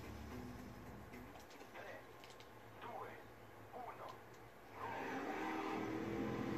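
Cars racing in the video game Trackmania, a steady engine drone with tyre squeals and quick revving sweeps, growing louder near the end, heard under someone talking.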